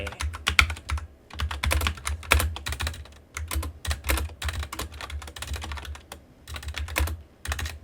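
Fast bursts of typing on a computer keyboard while writing C code, crisp close key clicks in quick rhythmic runs broken by short pauses.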